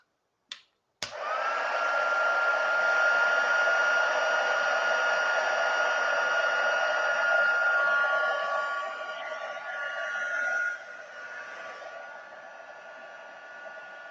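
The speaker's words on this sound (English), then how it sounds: "we want to get this warm and heat this up, and then it'll turn glossy white" A heat embossing gun blows steadily and loudly on a Valentine card, a continuous high-pitched whirring hiss that starts with a click and softens slightly toward the end.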